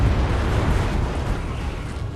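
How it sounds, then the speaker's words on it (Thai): Bombs explode in the World War II shooter Enlisted, a loud, sustained rumbling blast with dense low-end roar that slowly fades over about two seconds, with no voices. "มันทิ้งระเบิด"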